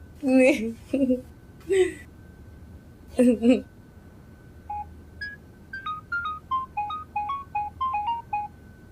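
A voice speaks briefly, then a run of telephone keypad dialing tones follows: about a dozen short, clear beeps in a quick, uneven sequence, heard close and alone.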